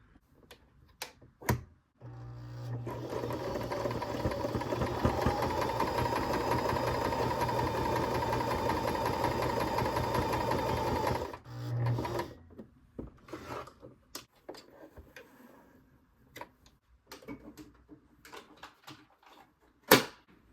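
A sewing machine stitching quilt rows together runs in one steady, continuous whirring burst for about nine seconds, close and loud, framed before and after by scattered clicks, taps and handling noises of the fabric and machine.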